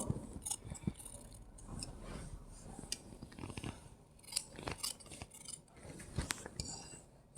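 Scissors cut fabric for an umbrella gown, widening the neckline: quiet, close, repeated crisp snips and sliding blade scrapes at an irregular pace, with faint low murmuring in the background.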